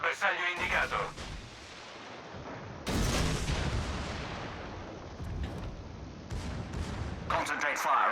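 Naval gunfire from a warship in a video game, heavy booming salvos that roll out over several seconds, with louder bursts at the start and near the end and a steady rumbling wash between them.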